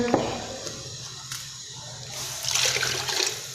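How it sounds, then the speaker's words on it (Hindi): Water pours and gushes into a pot of Punjabi-style chana dal khichdi, a soft splash at the start then a stronger rushing pour near the end. "इसलिए मैं इसमें 3 कप से भी थोड़ा पानी ऐड करूँगी"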